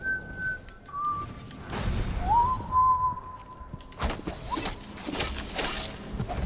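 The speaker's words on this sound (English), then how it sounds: "I love the little cut off whistle. Made a funny sound." In Dishonored: Death of the Outsider, a short whistle rises and then stops abruptly, followed by a longer held whistle note, against busy game sounds and shuffling movement.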